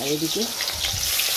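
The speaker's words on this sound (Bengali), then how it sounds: "মাছ ভাজাটা বসিয়ে দিচ্ছি" Fish fries in a pan with a close, steady sizzle and crackle of hot oil, while a voice speaks briefly at the start.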